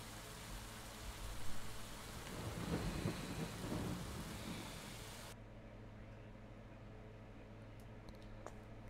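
Video game heavy rain pours with a low, rolling rumble of thunder, steady and close, then the downpour cuts off abruptly, leaving quiet background.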